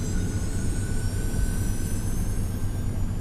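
Airbus airliner jet engines roar steadily at full thrust, a loud, continuous broadband rumble with a whining high-pitched tone, close and uninterrupted.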